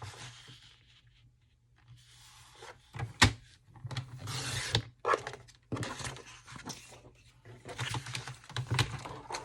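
Craft material is cut by hand in close, irregular scraping and snipping sounds with rubbing and handling noises in between, while someone talks.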